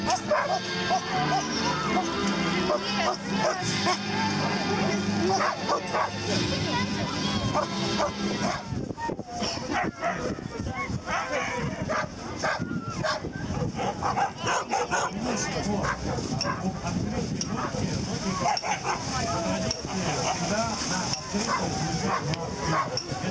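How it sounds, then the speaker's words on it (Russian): Sled dogs bark, yip and whine excitedly in a dense, continuous chorus before the start of a sled dog race, loud and close throughout, with people talking underneath. "Собаки умные, красивые животные. Это всегда позитив. Они уже ждут гонку, волнуются."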